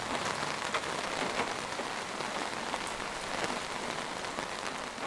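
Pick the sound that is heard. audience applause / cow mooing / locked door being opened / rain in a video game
rain in a video game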